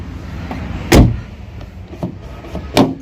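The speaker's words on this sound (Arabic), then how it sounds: "ها كاين واحد البوطونه كتهبطها بحال هكا، هي هبطات صافي، هو تسد الباب" A Dacia Logan car door is locked by hand with the key. Two sharp mechanical clunks sound close by, with a few faint clicks and handling noises between them.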